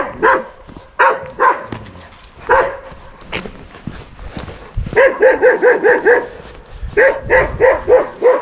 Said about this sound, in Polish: które zawsze witają majora szczekaniem